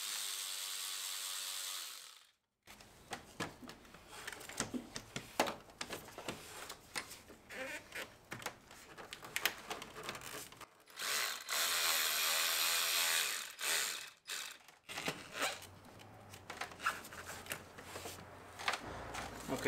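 A hand ratchet loosens 7 mm bolts on the charge pipe of a 2024 Chevrolet ZR2 with a 3.0 Duramax diesel, giving close, rapid clicking runs broken by brief pauses and fiddly tool handling.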